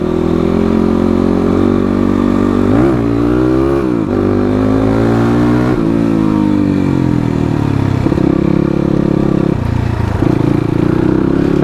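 A motorcycle engine runs loud and close as it is ridden, its steady drone rising and falling with throttle changes and gear shifts, with no voices over it.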